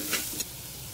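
A spoon stirs grated coconut and jaggery in a hot pan for sweet modak filling, giving a brief soft scrape with a faint sizzle, close and alone.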